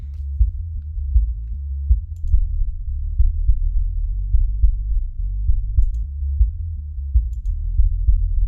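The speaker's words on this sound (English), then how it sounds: "Kick sounds good." Kick drum and bass guitar from a multitrack mix of a song thump in a steady low-end groove, the deep beats and bass notes pulsing continuously with almost nothing above.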